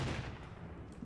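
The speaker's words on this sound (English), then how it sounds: "Tank is still firing." Tank firing in the WWII war game Combat Mission: Final Blitzkrieg, a brief dull booming blast at low volume filling a single second with no voices over it.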